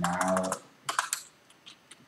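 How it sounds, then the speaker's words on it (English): Fingers typing code on a computer keyboard during a Flutter programming session, a quick burst of close, crisp key clicks followed by a few scattered, softer taps. "Let me finish typing it out and I will explain shortly."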